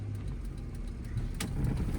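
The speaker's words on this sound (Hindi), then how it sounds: "चलो हल्का सा एक्सीलेटर लेके हाफ क्लच पे गाड़ी को बढ़ाओ" Car engine running low and steady as the car creeps forward on half clutch with a light touch of the accelerator in a narrow lane, a close, even hum that swells slightly toward the end.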